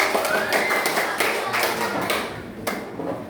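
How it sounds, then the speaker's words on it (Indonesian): Schoolchildren in an elementary classroom clapping together on a teacher's cue, a burst of hand claps in the room that fades out toward the end, with no talking. "Oke, tepuk tangan semua."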